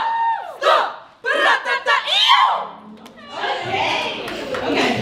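A crowd at a university cheer showcase yells and whoops loudly for the UNCC five-star cheer team, with bursts of shouting voices rising and falling nearby.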